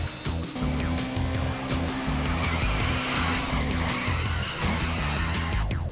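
A car skids and spins out in the game CS2 while being driven with a steering wheel, steady loud engine drone with squealing tires and scraping throughout, a continuous roar with no voice.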